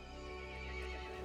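A horse whinnies in Resident Evil Village, one loud sustained neigh mixed into dense game music and ambience.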